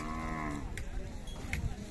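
A cow at a cattle fair gives a single long, deep moo, heard fairly close, which fades out midway, followed by quieter crowd murmur and a couple of faint high clinks.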